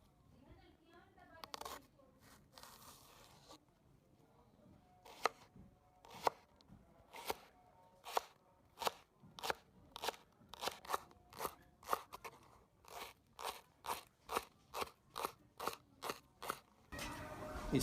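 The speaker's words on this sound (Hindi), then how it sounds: "सब्ज़ लहसुन की कटाई करेंगे।" Green garlic being chopped by hand with a knife for a beef and pea curry, a long run of sharp, evenly spaced chops on a board that start sparse and speed into a steady rhythm, close and distinct.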